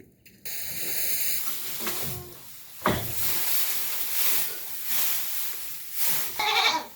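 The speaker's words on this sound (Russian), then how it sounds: "козы." Goats on a farm bleat several times at mid distance, with loud broadband hiss and rustling between the calls and a final sharper bleat near the end.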